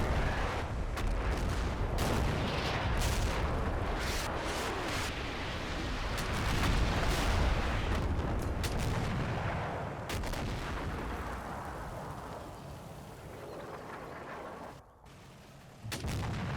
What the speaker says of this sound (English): That's a lot of German artillery.